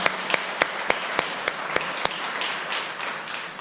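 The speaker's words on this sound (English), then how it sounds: "I want to give you all a hand clap." Audience at a spiritual retreat talk claps hands, with distinct individual claps popping out early over a soft, steady bed of applause that continues to the end.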